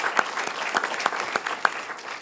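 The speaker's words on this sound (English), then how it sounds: "give her a round of applause for her presentation" Audience applause fills a short stretch at a government commission event following a superintendent's presentation, with steady dense clapping and a few sharper, louder claps standing out from the crowd.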